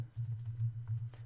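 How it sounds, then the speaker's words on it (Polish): Close, soft clicks of a computer keyboard as details go into a registration form, a short burst of keystrokes over a low electrical hum. "w polu rejestracja wpisujemy swój adres e-mail, wpisujemy imię"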